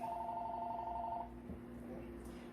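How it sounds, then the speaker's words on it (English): A telephone rings in a home kitchen during cornbread baking, a steady electronic ring tone for about the first second and a half before cutting off, leaving faint room noise. "excuse the phone"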